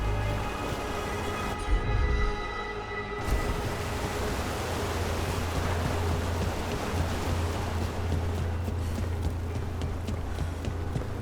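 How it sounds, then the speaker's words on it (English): Steady rushing water from a waterfall in the video game Dragon Age: The Veilguard, a continuous full-bodied roar that holds evenly throughout with no talk over it. "By the waterfall."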